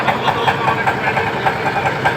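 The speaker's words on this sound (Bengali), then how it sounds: "বোট যাচ্ছে।" A large boat engine runs steadily close by on the water, a continuous loud chugging drone with a faint regular pulse and no talk over it.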